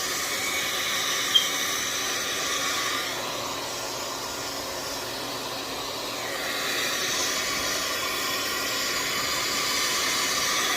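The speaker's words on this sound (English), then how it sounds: "I once again take my blow dryer and I'm going to blow dry this until it's dry" Blow dryer drying a glueless water wave wig, a steady close whooshing hiss of air running continuously, with a slight dip in intensity midway and a brief click near the start.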